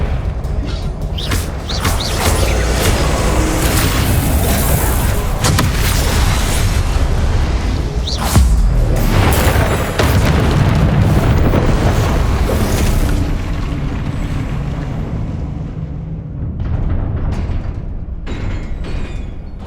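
Spell explosions from the Confringo curse in Hogwarts Legacy, a run of loud booming blasts and bursts layered over a dense, continuous game soundscape for about twenty seconds, fading slightly toward the end.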